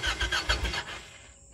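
Car engine cranking and catching as the key is turned, a quick run of loud starter pulses that settle into a brief engine note and then fade, heard alone and close.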